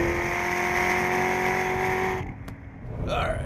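An SRT Viper GTS or Chevrolet Corvette ZR1 charges hard uphill on a race track, its engine a loud, sustained close-up roar that cuts off abruptly partway through, leaving quieter road and wind noise. Someone talks over it.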